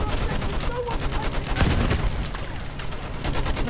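Dense, continuous gunfire from the Battlefield 1 video game rattles steadily, with bursts and rapid shots over a busy battlefield din, and faint voices mixed in.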